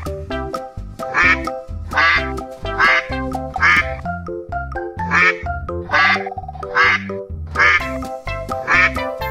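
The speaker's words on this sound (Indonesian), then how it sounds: "ada bebek angsa" A yellow duck with a red bill quacks again and again in a steady, rhythmic pattern. The quacks are loud and close over a continuous tonal backing.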